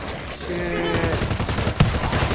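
Gunfire from the World War Z zombie shooter video game, during a New York mission, with steady rapid shots blended into dense game noise, voices and a louder crack near the end.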